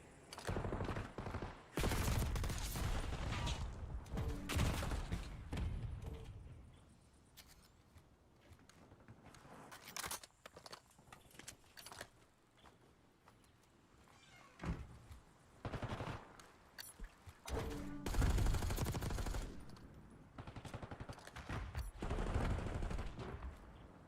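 Rapid gunfire from a Call of Duty match, with dense bursts of automatic fire and single shots coming in waves, loud and close, easing off in the middle before heavy shooting returns.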